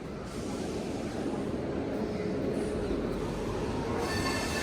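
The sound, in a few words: train engine running on rails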